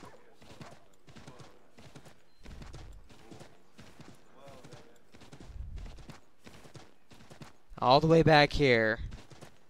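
Hooves clip-clop in a steady rhythm as horses walk through a town in Assassin's Creed III. Someone talks over the footsteps, and a loud horse neigh breaks out near the end.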